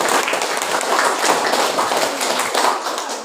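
Classroom applause for a student, a steady wash of many hands clapping together, dense and fairly loud throughout with no pause.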